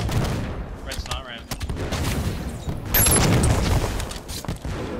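Gunfire from a competitive Halo match, with sharp shots and bursts including sniper fire, comes out loud over a steady game soundscape while players talk.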